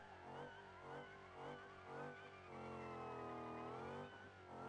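Gavril Kodiak pickup truck in a driving video game doing burnouts with an automatic transmission, engine revving in loud sustained pulses that rise into a long held high whine, steady and close with no talk.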